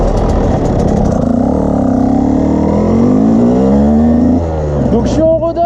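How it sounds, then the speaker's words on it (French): A car drives past close by on a road, its engine rumble rising and sweeping in pitch as it goes by, heard over the steady drone of an idling 2011 KTM 125 EXC Six Days supermoto motorcycle. "Alors on va laisser passer la voiture."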